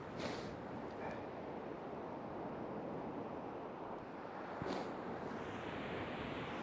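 Strong wind blows across the shingle shore at Dungeness during a fishing session, a constant broadband roar with occasional stronger gusts buffeting the microphone and faint surf mixed in.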